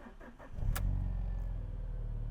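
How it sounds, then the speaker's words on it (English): An Alfa Romeo 4-cylinder 16-valve twin-spark engine cranks briefly with a quick starter whir, catches, then settles into a steady, close, even thrumming idle. "thrumming into life is that 4-cylinder 16-valve twin-spark engine"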